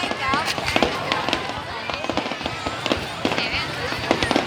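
Lunar New Year fireworks on the fourth day of Tet 2019 at a national tourist area in Vietnam, with dense crackling and popping bursts throughout and spectators chatting nearby.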